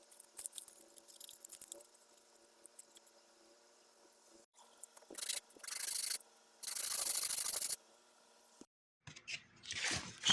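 Sandpaper rubs CA glue off a guitar in close, intermittent bursts of scratchy scrubbing separated by short quiet pauses, with the strokes growing longer and louder toward the end.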